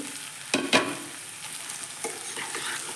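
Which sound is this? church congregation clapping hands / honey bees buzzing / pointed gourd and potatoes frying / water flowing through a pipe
pointed gourd and potatoes frying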